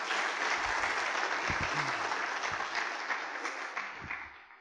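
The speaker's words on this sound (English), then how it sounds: "a round of applause for that new news as well" Audience applause at an academic lecture on sustainable agriculture, dense and steady at first, then gradually thinning out toward the end, with a few low thumps and faint voices underneath.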